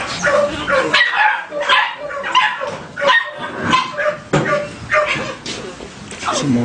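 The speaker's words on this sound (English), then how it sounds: "Some more dogs" Several pit bull dogs and puppies barking in repeated bursts close by, sharp barks mixed with higher yips, steady and loud throughout.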